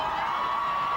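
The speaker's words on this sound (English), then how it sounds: "The crowd is loud." Crowd at a 1997 high school playoff football game in Davenport, Iowa, between Assumption and Pleasant Valley. A brief, steady wash of crowd noise carries some cheering.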